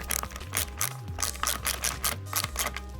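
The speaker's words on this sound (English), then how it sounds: "we'll have to remove both of these 2 bolts here that are 10mm" A ratcheting wrench clicks in short rhythmic bursts while loosening 10mm bolts on the rear fender of a Yamaha WR250X motorcycle, close and fairly loud, with pauses between strokes.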